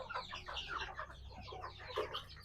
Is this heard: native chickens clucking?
yes